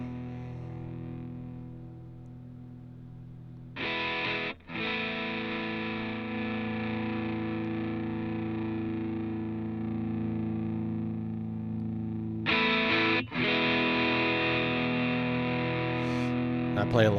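An electric guitar played through the Bias FX app with distortion effects rings out in long sustained chords, freshly struck twice, with a buzzing, saturated tone alone and steady throughout.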